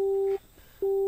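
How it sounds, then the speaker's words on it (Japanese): A telephone busy tone sounds after a call is hung up, a pure steady beep cut by a short silent gap and then resuming, close and clear. "電話は切られてしまった。"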